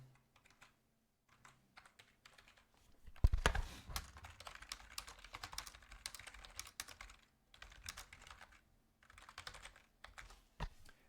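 Bursts of quiet typing on a computer keyboard, close and soft, come in uneven runs with short pauses and a denser flurry in the middle, with no voices.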